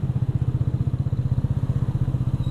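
A standard stock motorcycle ridden on a road through an area with speed bumps, its engine thrumming in a steady, pulsing low rhythm at close range throughout, with no talk.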